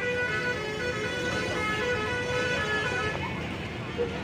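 A Mercedes-Benz OH 1526 Jetbus Setra bus sounds its telolet horn in a steady, sustained musical tone while queueing out of a mosque parking lot, with traffic noise and people talking underneath.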